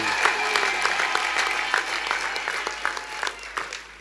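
Church congregation applauding for the Tanzanian government during a testimony service, a dense wash of clapping that gradually thins, leaving scattered individual claps toward the end.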